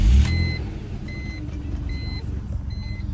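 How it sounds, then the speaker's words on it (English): A high-mileage BMW with an oil leak cranks and catches at the start, then settles into a steady, rumbling idle close by, with regular electronic chimes beeping over the engine. "Let me give you guys a little startup"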